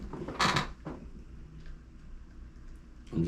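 Screws on an Andis T-Outliner clipper blade are tightened, giving a few sharp creaks and metallic clicks at the start and end with faint handling noise between.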